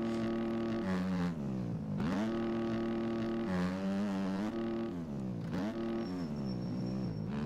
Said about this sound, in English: I can hear a two-stroke somewhere, like across the track from somewhere